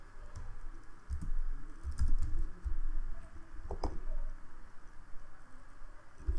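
Scattered keystrokes tapped on a computer keyboard while entering a captcha, soft and irregular, with clusters of quick presses and pauses against a faint room hum.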